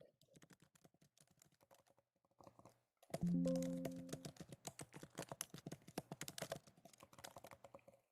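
Rapid clicking keystrokes on a computer keyboard picked up during an online community council meeting, faint at first then louder and busier, with a brief tonal beep mixed in partway through.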